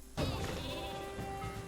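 Super sheep weapon in the Worms W.M.D video game lets out a single long, loud, wavering bleat with a sharp onset, sustained for over a second with nothing else over it.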